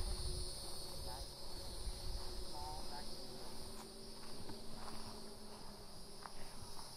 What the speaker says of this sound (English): Hear a lot of cicadas going on.